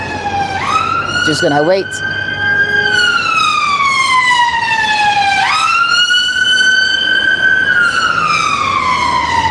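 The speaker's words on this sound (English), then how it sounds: "Sirens, police, ambulances." Emergency vehicle siren on a Camberwell street, a loud wailing tone sweeping slowly up and down twice over steady traffic rumble, with a brief spoken remark near the start.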